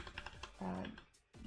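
Quick clicks of computer keyboard typing in a quiet room, short bursts of keystrokes with brief pauses and a moment of faint voice or hum in between.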